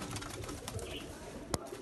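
Soft pigeon cooing murmurs steadily beneath a noisy background, with a brief sharp click near the end; breeder flying pigeons in a loft setup in Faisalabad.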